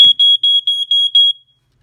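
A Ventek FA100 smoke alarm, just plugged in, gives a loud, piercing electronic tone pulsing in about six quick beeps over roughly a second and a half, then stops into silence.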